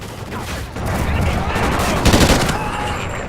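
Sustained automatic gunfire from the video game Call of Duty Ghosts fills the mix in a dense, loud fusillade, with voices faintly underneath.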